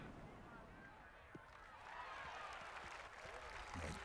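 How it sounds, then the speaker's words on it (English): Gallery applause and cheering in the golf video game EA Sports PGA Tour 2023 at the Charlotte Championship, a faint, steady patter of clapping and crowd noise that swells slightly toward the end. "Well, the crowd like it."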